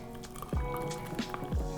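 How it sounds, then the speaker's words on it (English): Frothed salted caramel milk pours into a cup of coffee, giving soft wet glugs and a gentle liquid splash at close range, with a couple of distinct slurping drops. "Now we're gonna pour it into our coffee."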